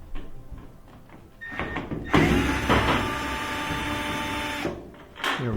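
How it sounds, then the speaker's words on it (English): A power driver whirs steadily for a few seconds, backing long Phillips head screws out of the top panel of a GE dryer, with scattered handling clicks before and after; no speech. "We're going to take out two screws that are holding the top on."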